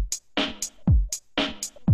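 FoxDot drum samples loop through a four-beat pattern of kick, hi-hat and snare, played twice in two seconds: booming kicks, crisp hi-hat ticks and a snappy snare, close and loud with no talk.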